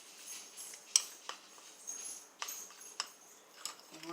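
Vanilla icing being stirred with a utensil in a bowl after a tablespoon of whole milk is added, giving soft, faint clinks and scrapes at irregular intervals with no voice.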